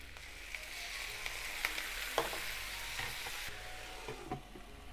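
Steady frying sizzle with crackling pops as water is added to noodles in a hot oiled frying pan, hissing continuously at moderate volume with no voices.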